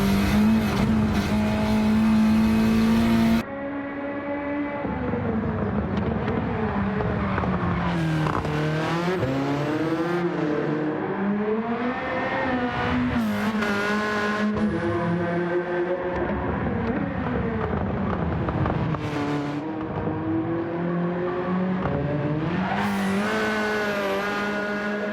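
A race car in Gran Turismo 7 revs hard through gear shifts, its engine note climbing and dropping repeatedly with sharp upshifts and lifts, loud and close, with occasional tire squeal across a long hilly stretch.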